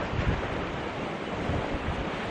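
Churning water in a turning hot spring cauldron in Hayden Valley, a steady rushing, bubbling roar mixed with gusty wind buffeting the microphone, continuous and moderately loud, with no voices.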